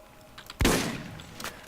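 A single sharp shotgun blast from the Borderlands 3 video game hits suddenly and loud, then trails off in a short decaying roar. Faint rustling and small clicks sit around it.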